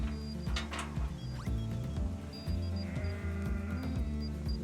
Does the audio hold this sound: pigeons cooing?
no